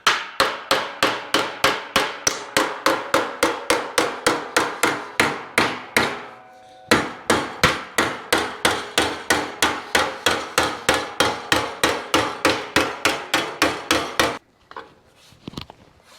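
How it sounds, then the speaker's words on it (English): Steady, fast hammer blows ringing on the rusty sheet-metal dash panel of a Chevy COE truck, evenly spaced, with a brief pause midway before the pounding resumes, then a few softer clanks at the end. "I'm afraid to start hitting it with a hammer"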